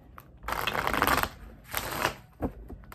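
Tarot cards are shuffled close up in several bursts of riffling and flicking. A short pause separates the bursts, and the last one is a brief slap.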